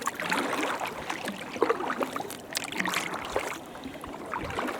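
Kayak paddling through water in Labrador Hollow in autumn, with steady splashes and trickles from the paddle strokes close by, no talking.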